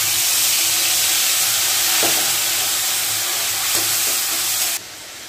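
Ginger paste and tomato hit hot oil with panch phoron and a bay leaf, giving a dense, loud, continuous hiss of frying with a few faint stirring knocks before the sizzle suddenly drops away.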